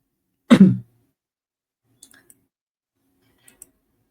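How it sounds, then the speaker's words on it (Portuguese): A single short cough from a person leading a Spiritist reading, close and fairly loud, followed by a few faint clicks and near silence. "É porque eu fui tossir"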